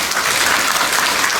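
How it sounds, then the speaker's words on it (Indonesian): A crowd at a nursing college graduation ceremony in Kupang claps steadily and loudly, a dense unbroken wash of applause with no voices standing out. "Tepuk tangan buat semua yang ada di sini"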